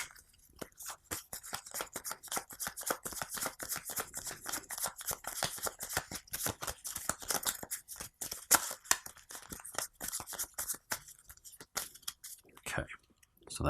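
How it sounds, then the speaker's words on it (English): Cards from the Death May Die board game are shuffled up close, a fast run of crisp riffling and snapping clicks that continues steadily for several seconds, quiet and dry. "let me shuffle these up real quick"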